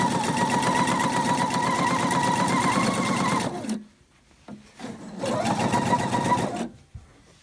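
Sewing machine running straight stitches at 2.5 mm length as fabric feeds through a rolled-hem foot, turning a fine narrow hem on a baby bloomers ruffle; steady close buzzing, a brief pause, then another steady run.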